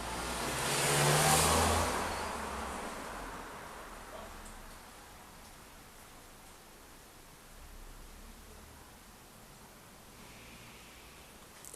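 An RC motor spins an unbalanced propeller on a thrust tester, giving a steady whooshing, rushing hum that swells loud early, then settles into a lower, even drone.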